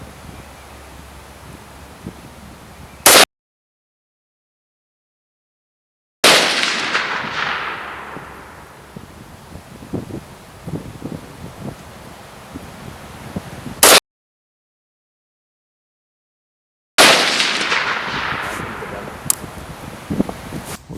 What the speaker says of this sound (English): Let's take a couple shots.